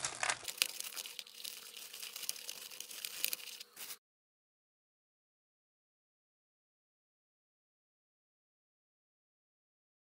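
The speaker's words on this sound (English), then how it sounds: "Putting the plastic bag over it helps to conserve moisture." A plastic bag crinkles and rustles for about four seconds as it is pulled over a sprouting English pea transplant, close to the microphone, and then the sound stops abruptly into silence.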